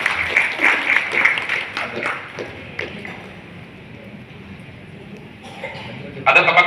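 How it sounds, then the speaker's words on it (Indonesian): Applause from a seminar audience at a hotel gathering welcoming newly arrived guests, a burst of clapping that fades into quieter room noise before a brief renewed swell at the end. "tepuk tangan dulu buat beliau-beliau yang baru hadir"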